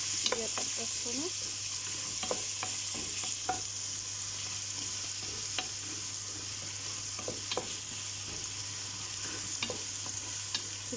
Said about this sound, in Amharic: እዚህ ጋር ደግሞ ሽንኩርት እየጠበስኩ ነው።